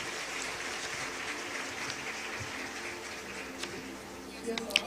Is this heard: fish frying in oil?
no